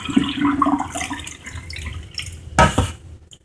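Water trickles and splashes into a glass globe aquarium holding white lilies, a gentle pour with small drips, ending in a brief louder gush near the end.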